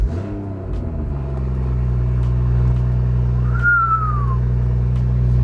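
BMW X3 M40i with catless downpipe and aftermarket exhaust idles with a deep, steady low rumble and droning engine hum, a brief whistle-like rise partway through, close and continuous with no talk.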